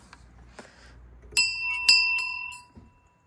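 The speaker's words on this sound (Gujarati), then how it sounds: "આ ડોરબેલ જુઓ" An antique doorbell at a small cabin rings with several bright metallic dings that ring out and fade, preceded by a few soft handling knocks, close and otherwise quiet.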